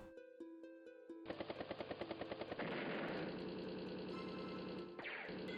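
An anti-air unit strikes in the video game Advance Wars: Days of Ruin, opening with a short musical jingle, then a rapid run of loud cannon bursts rolling into a dense, continuous roar of gunfire and engine noise.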